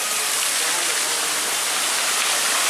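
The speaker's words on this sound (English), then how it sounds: "I'll stop and take a look at this waterfall first because it is pretty beautiful" A waterfall at a Walt Disney World resort pours steadily, a dense continuous rush of falling water that stays loud and even throughout with no voices.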